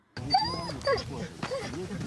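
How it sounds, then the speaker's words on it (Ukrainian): Trained search dogs whimpering and yipping at a mine-cleared tree line in a war zone, with high whines and short yelps scattered over about two seconds, close by and mixed with background voices. "Фахівцям допомагатимуть спеціально навчені собаки"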